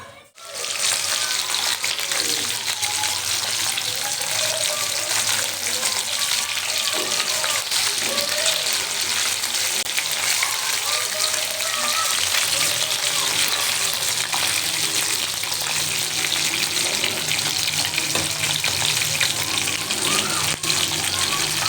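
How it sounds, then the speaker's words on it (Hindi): Fish frying on a hot tawa griddle with a little salt, giving a loud, continuous close-up sizzle that holds steady throughout with faint crackles. "ये तवे पे फ्राई हो रही है"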